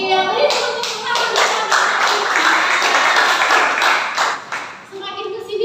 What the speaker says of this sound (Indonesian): Iya, beri tepuk tangan.